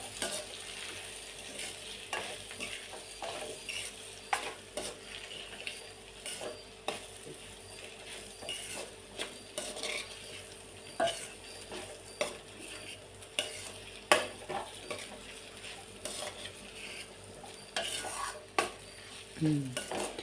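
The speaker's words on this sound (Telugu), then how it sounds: "పసుపు వేసుకుని మంచి కలుపుకుందాం." Tomato brinjal curry being stirred in a pan after turmeric is added, giving a steady series of soft scraping stirs and clinks over a quiet background sizzle, with no talking.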